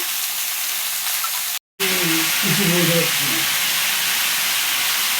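Vegetables hit a hot pan with fish head for a mixed vegetable dish, bursting into a loud, steady sizzle after a brief silence, with a few clanks and faint stirring noises under the hiss.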